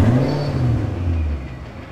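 Rear-engined car on a dynamometer rated for 1,000 horsepower, engine droning at a steady low pitch with a faint rising tone, loud and close with no talk, easing slightly toward the end.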